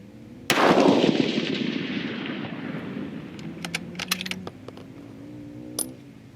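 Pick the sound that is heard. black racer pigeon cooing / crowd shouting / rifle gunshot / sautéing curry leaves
rifle gunshot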